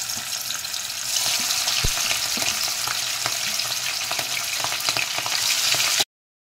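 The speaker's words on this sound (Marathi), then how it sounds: "हे मासे आता तळून काढायचे।" Fish seasoned with salt and red chilli powder frying in hot oil in a home kitchen, a steady, close, crackling sizzle that swells slightly after the first second and runs on continuously, with a few faint utensil clicks and no talking.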